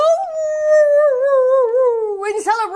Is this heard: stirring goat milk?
no